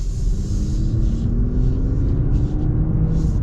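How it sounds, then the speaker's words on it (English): A 2023 Infiniti Q50 Red Sport 400 engine hums steadily while driving, a continuous low rumble with a slowly rising tone, close and even, with no talking. "the big thing though is this engine sounds cool, and it responds really well"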